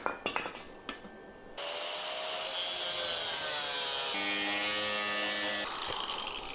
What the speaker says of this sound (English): So now I need to cut that off. My buddy, the grinder.